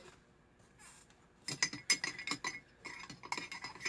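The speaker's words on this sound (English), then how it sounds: "You can literally stir it up with a spoon" A spoon stirs matcha powder into a paste in a bowl, giving a quick run of light clinks and scrapes against the bowl after a quiet start.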